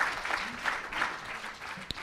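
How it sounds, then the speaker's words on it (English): Audience applause for the panelists at a Department of Public Works event, a soft, steady patter of clapping from a modest crowd in a hall, fairly distant, with one sharper clap near the end. "let's give a round of applause to our panelists"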